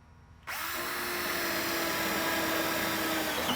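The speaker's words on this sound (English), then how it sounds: "And then we're ready to rivet our upper and lower air dam." A pneumatic rivet gun starts abruptly and runs in one continuous whirring burst while riveting the air dam on an EZGO golf cart fitted with a Sleekline body kit.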